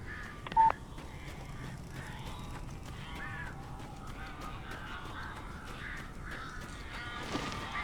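Crows caw in the horror adventure game Taken by the Shadows, faint scattered calls over a low ambient hum, with one brief sharp beep near the start.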